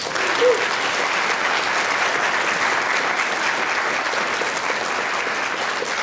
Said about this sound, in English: that's worthy of another round of applause